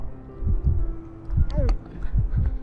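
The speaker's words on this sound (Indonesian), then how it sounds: "Jantung Dokter Cha kemudian berdetak tak menentu ketika Kang Hun semakin dekat padanya." Soft, low heartbeat thumps come in pairs at a steady pace, with a brief tonal sound in the middle and faint background.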